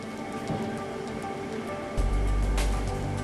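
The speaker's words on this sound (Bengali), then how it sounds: "তো এখন আমি হালকা আঁচে এগুলো কষিয়ে নিচ্ছি।" Spices, then mixed vegetables, sauté over low heat in a pan for lentil and vegetable khichuri, giving a steady, hissing sizzle that grows fuller and louder partway through.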